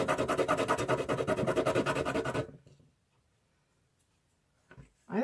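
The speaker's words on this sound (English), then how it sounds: "Just a little bit more sanding." Rhythmic back-and-forth scraping of sanding plastic doll deer antlers, fast regular strokes for a couple of seconds, then near silence with a brief rustle at the end.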